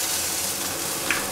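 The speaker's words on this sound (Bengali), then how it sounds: "আমরা এবার ঘষা পেঁয়াজ যেটা রেখেছিলাম সেটাকে এর মধ্যে ঢেলে দেবো" Grated onion goes into a hot oiled pan for potato curry (aloo dum), giving a steady, close frying sizzle with a faint hiss and no talking.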